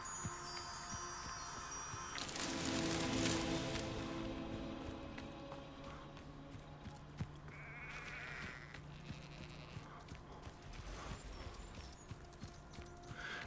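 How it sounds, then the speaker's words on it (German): Sheep bleat a few times in Hogwarts Legacy video game against steady background music and ambient noise, the calls fairly distinct midway through. "Na, ihr Schafe."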